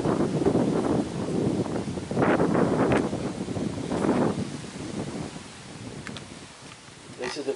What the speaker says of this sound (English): Wait for the wind to die down.